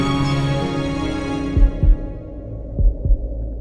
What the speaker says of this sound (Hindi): मेरे दिल की धड़कन बढ़ जाती है।